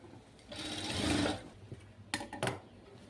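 A sewing machine stitches an invisible boat neck finish in one short whirring burst of about a second, followed by a few faint mechanical clicks and taps, with no voices.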